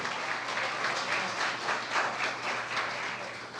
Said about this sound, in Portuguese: E palmas ao Rei